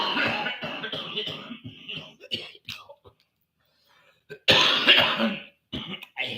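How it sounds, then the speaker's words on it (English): A person clears their throat and coughs several times, short rough bursts close to the microphone, alternating with quiet whispery breaths and a brief pause of near silence. "I hate the cough"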